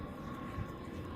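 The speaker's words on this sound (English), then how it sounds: "There's a plane flying up above" An airplane flying overhead gives a faint, steady, distant engine drone that holds evenly throughout, heard outdoors with no talking.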